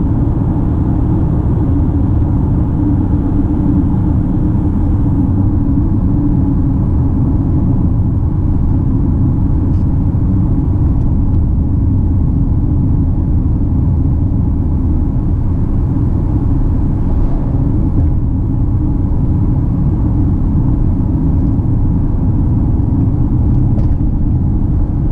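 Jetour X70 Plus car overtaking on a highway at about 100 km/h, heard from inside as a steady low engine drone and road rumble that holds constant throughout with no talking.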